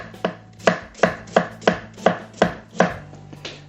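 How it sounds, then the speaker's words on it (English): A knife chops daikon radish into fine julienne on a board, about nine crisp, evenly spaced cuts in a steady rhythm, close and clear with no talking. "Now I'm doing the daikon radish."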